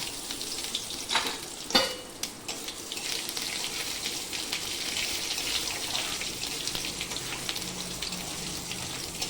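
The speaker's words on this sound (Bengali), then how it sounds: "এই যে কড়ার মধ্যে একটু তেল নিয়ে এতে 5 ফোড়ন দিয়ে দিলাম, সাঁতলে নেবো ঝোলটা।" Magur catfish gravy is sautéed in a kadai of hot oil tempered with five-spice (panch phoron). A few sharp splattering bursts and stirring knocks early on give way to a sustained, moderately loud frying sizzle.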